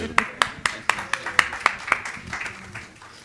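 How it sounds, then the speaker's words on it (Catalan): A small audience at a debate on Neanderthal flint recycling claps in a rhythmic run of sharp, evenly spaced claps at close range, tailing off into softer scattered clapping. "Si poden aplaudir"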